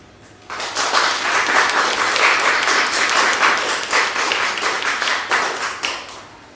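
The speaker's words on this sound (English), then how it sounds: "it's nice to clap, but it might be quicker and easier for everyone if we wait to the end" An audience at a poetry reading breaks into applause after a poem, a dense burst of many hands clapping that starts abruptly, holds steady for several seconds, then thins out.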